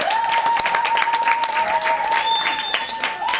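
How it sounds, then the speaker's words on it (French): A school event crowd claps steadily throughout, a dense burst of applause with a thin tone ringing faintly behind it. "Applaudissez pour vous-même."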